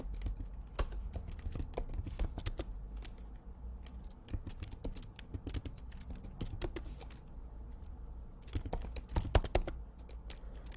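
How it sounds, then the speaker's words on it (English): Computer keyboard keys clicking in irregular bursts as a crypto wallet recovery phrase is typed, fast runs of taps with short pauses, close and moderately quiet. "that part where I'm typing all these wallets back in"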